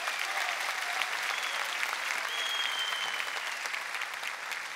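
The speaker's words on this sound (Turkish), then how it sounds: "Alkışlar Sümer Özgü için efendim." A crowd applauds at a folk dance competition, a dense, sustained roar of clapping hands filling the hall at steady volume.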